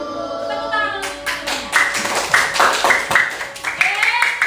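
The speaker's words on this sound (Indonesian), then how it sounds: "Tepuk tangan dulu." Schoolchildren in a second-grade classroom clap their hands together in a quick, rhythmic burst of claps, with some voices mixed in over the clapping.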